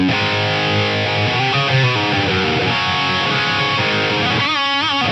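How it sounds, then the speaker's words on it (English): Electric guitar run through a Lexicon MPX-1 gated reverb, giving an 80s-style sound: distorted sustained notes and chords whose bright reverb tails cut off abruptly, with a swirling burst near the end, played alone. "we got a sweet sounding gated reverb for that super 80s thing"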